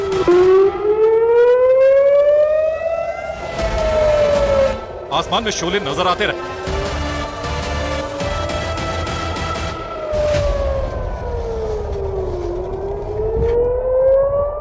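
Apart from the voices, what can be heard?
sirens wailing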